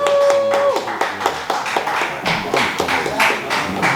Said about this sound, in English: y'all better clap that ass up